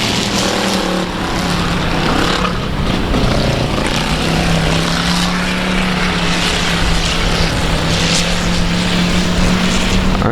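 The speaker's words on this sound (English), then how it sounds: "There's your green flag waving, and we're away racing." Street stock race cars roaring away at the start of a race at a speedway, a loud, dense, continuous engine drone with a steady pitch that holds throughout.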